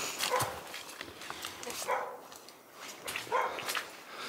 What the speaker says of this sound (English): sounds like a dog. Sounds like a border collie.